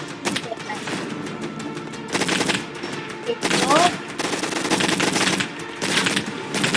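Rapid automatic gunfire from the Roblox shooting game Gunfight Arena, loud sustained bursts with short pauses between them and a voice talking underneath.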